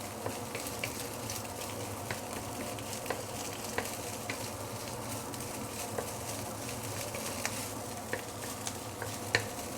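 Garlic fried rice tossed in garlic oil sizzles softly in a pan, a quiet steady frying hiss with scattered light clicks of the spatula stirring through it.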